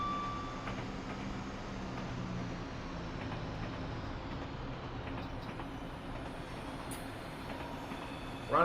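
A train with weak brakes rolls downhill in a train simulator video game, a continuous low rumble with faint rail clatter throughout, steady and moderately quiet.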